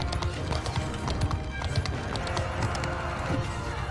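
Rapid, steady hoofbeats of a galloping horse in Crusader Kings 3 or Bannerlord, continuous and fairly loud, with a brief whinny and a faint voice in the mix.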